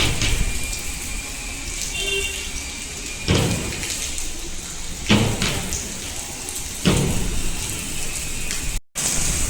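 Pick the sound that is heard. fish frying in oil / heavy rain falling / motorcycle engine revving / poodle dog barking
heavy rain falling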